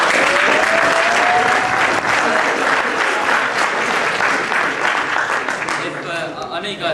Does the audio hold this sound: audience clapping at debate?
yes